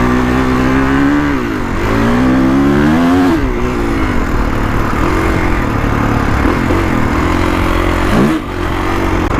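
A 2021 Kawasaki KX450X dirt bike engine revs loudly and continuously while ridden, its pitch rising and falling through gear changes with a sharp dip near the end.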